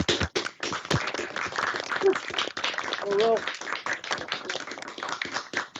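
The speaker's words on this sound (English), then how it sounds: "I'm just elated to offer up applause for you" Scattered clapping and tapping from a small group recognizing someone at a city council meeting, quick irregular claps mixed under ongoing talk, fairly faint.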